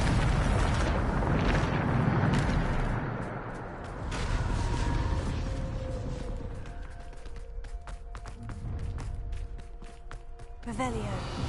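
A Bombarda spell blasts with a deep, rumbling explosion and booming roar that swells and then fades into crackling debris, heard close and loud with voices around it.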